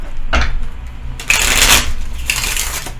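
Several bursts of tarot cards being shuffled, crisp riffling and flicking sounds close by, with short pauses between them.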